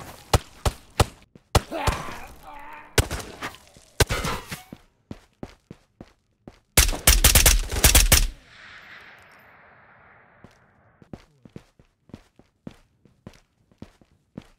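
Gunfire in the VR shooter Ghosts of Tabor: sharp single shots and a dense rapid burst crack out at close range, mixed with footsteps and clattering movement, then a trail of scattered quieter impacts.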